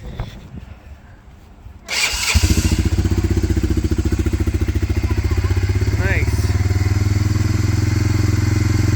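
A Honda Fortrax ATV starts after a short quiet stretch, then settles into a loud, steady idle with a fast, even rumble from close by. Someone speaks over the engine noise.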